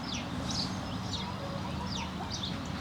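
Chickens cluck softly and repeatedly at a farm with goats nearby, a few faint, distant calls over steady outdoor background noise.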